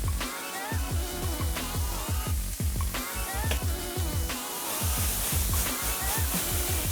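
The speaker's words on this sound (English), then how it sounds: "we're going to start frying off the beef." Beef frying in hot vegetable oil in a pan, a loud close sizzle with bursts of spitting and crackling pops over a steady hiss.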